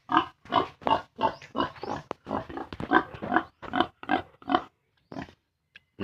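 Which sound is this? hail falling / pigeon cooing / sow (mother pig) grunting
sow (mother pig) grunting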